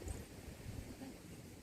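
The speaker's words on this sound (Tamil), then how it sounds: "காற்று அடிக்குது." Wind rumbling and buffeting steadily across the microphone on a high hilltop, a low, continuous roar, fairly quiet, with no one speaking.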